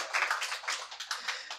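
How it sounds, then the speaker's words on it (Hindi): An audience claps at a live Hindi stage show, a short burst of scattered, uneven handclaps that thin out and fade within under two seconds. "ताली बजाओ यार"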